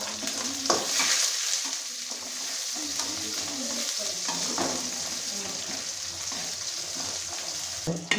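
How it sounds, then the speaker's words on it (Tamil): Mustard seeds, curry leaves and dried chillies tempering in hot oil for spinach give a steady, close sizzle and crackle, with occasional stirring scrapes and utensil clinks throughout. "இப்போது கீரைக்கு ஒரு தாளிப்பு கொடுத்துட்றேன்."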